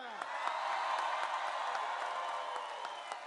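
Crowd applause and cheering at a political campaign rally in Green Bay, Wisconsin, a dense sustained roar of clapping and whoops from a large audience that holds steady throughout.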